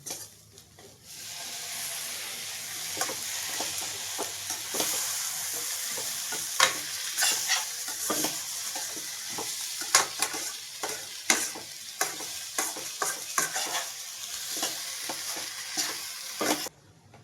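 Tomatoes fry with turmeric in a pan of fenugreek leaf curry, giving a steady close sizzle and hiss broken by repeated scraping strokes and clinks of a spoon stirring; no one talks.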